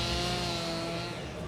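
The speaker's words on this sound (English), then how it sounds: "You can hear the chainsaws hard at work." Chainsaws carving animal sculptures of bears and owls at an outdoor agricultural show, a continuous loud buzzing engine drone with slight pitch shifts throughout the brief stretch.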